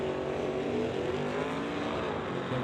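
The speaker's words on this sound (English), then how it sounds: "driving the 71 Pinto." A 1971 Pinto drag racing car runs at an old-time drag strip, a dense continuous engine roar holding steady and loud throughout, with no voices.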